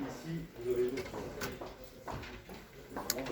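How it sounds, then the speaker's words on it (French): A kitchen cupboard with inner drawers opens at a hardware store, giving soft sliding and knocking sounds under a person talking throughout. "Alors vous ouvrez le placard comme ça et puis à l'intérieur vous avez plein de tiroirs."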